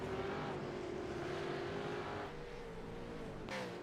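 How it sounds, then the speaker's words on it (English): A Supercars race car in the iRacing simulator, engine droning steadily with pitch shifts as it downshifts abruptly, ending in a brief sharp burst of noise. "Downshifting too quick."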